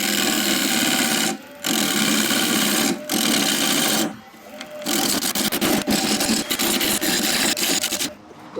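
Wood on a lathe being hollowed out with a pointed turning tool, giving a loud, continuous scraping and rasping whir that drops away briefly a few times as the cut pauses, then resumes.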